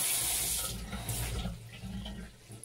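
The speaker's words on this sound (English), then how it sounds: "So next I'm gonna get cold water from the tap" Cold water runs from a kitchen tap in a steady close hiss and splash that softens slightly as it fills a container, with no voices.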